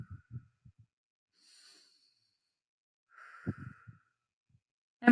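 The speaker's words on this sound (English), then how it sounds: "Take a few deep breaths." Slow, deep breaths are taken in and let out, soft breathy airflow with faint sighing exhales and small mouth sounds between them, quiet and close.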